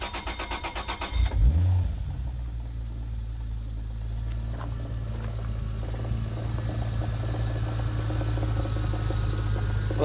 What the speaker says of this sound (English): So now we're gonna start the car.